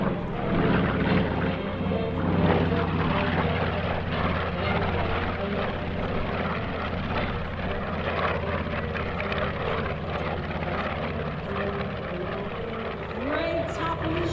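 A B-25 warbird bomber named Panchito passes overhead at an air show, its piston engines making a steady, heavy drone with a slight pitch shift near the end as it moves away.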